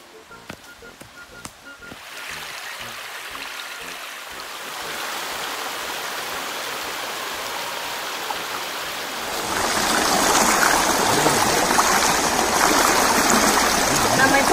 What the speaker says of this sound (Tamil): அந்த சைடு வந்து பார்த்தீங்கன்னா அருவி கொட்டுது